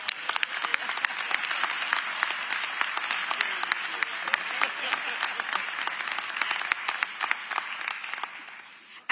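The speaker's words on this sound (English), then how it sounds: "Give yourselves a round of applause." A crowd claps at a police academy graduation ceremony in Raleigh, a sustained, dense round of applause with a few sharp individual claps standing out, fading toward the end.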